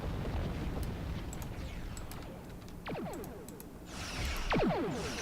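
Phaser cannons fire in a space combat video game, sweeping energy blasts with descending zaps, a burst near the middle and a louder cluster toward the end over a steady rumbling background.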